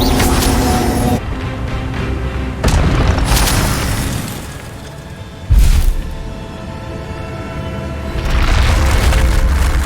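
Spell blasts in Hogwarts Legacy, a Harry Potter action game, as loud booming explosions and bursts over a dense, steady layer of game sound, with several sharp hits landing about three to five seconds apart.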